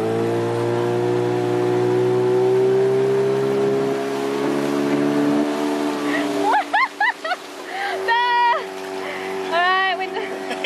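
A dinghy outboard motor runs with a steady droning hum, then cuts back as the tender is handled at the water's edge; chirpy squeals and voices come in near the end.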